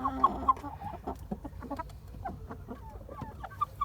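Minorca chickens cluck nearby in short, scattered bursts, several birds calling irregularly over a low background hum.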